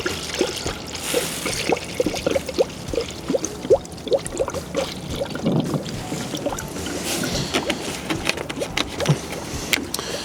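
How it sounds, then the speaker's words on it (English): Coolant pours steadily into a Lexus GX470 cooling system with gurgling and bubbling, close by, with small splashy glugs throughout. "And then we put some coolant into here."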